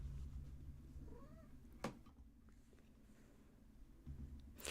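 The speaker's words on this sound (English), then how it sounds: "there's a Gertie cat in the background, so I'm sure you can all hear her singing" A cat gives a single soft, rising meow indoors, faint and brief against a low room hum, with a sharp knock-like click shortly after.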